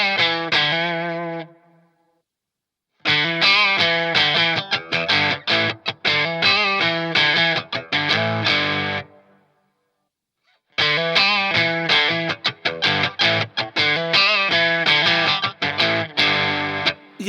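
Electric guitar played through a Walrus Audio Ambient reverb pedal on a small reverb setting: a loud, sustained chordal passage in two bursts, separated by short silences, with a shimmering, hazy wash trailing each phrase.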